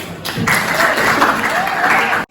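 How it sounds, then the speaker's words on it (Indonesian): Audience applause at an Indonesian talk on animation and children's illustration: a short, steady burst of clapping with voices mixed in, cutting off abruptly at the end. "Tepuk dong."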